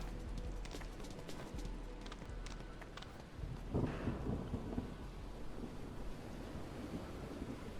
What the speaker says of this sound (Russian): Тут дождь идет.